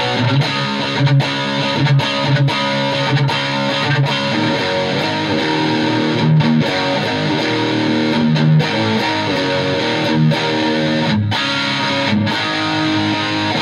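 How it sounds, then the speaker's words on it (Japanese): Distorted electric guitar played through a Neural DSP Quad Cortex amp model with a scaled-down two-speaker cabinet, loud and sustained with chugging chords and riffs in a steady rhythm. "歪みの方に切り替えてみましょうか。"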